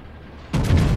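Heavy naval gunfire from a battleship in World of Warships, a single loud booming salvo bursting in abruptly halfway through after a quiet stretch of ambient game hum.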